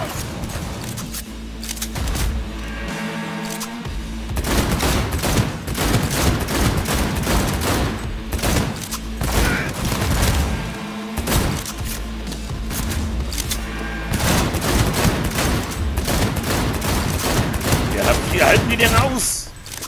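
Gunfire from a shootout in the video game Cyberpunk 2077: continuous rapid volleys of shots and bursts, loud and dense throughout, with game effects layered in.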